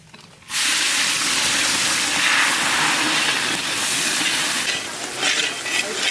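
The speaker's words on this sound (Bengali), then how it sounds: "পেঁয়াজ ভাজা হয়ে গেছে" Chopped onion fries in mustard oil with whole dried chillies, cumin and bay leaves, a steady close sizzle and hiss that starts abruptly after a brief quiet moment and holds loud throughout.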